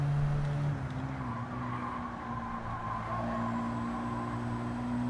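A Mazda Demio engine droning steadily through a time-trial lap of the Nürburgring in Gran Turismo 7, its tone shifting pitch as it changes gear, loud and continuous with no talk.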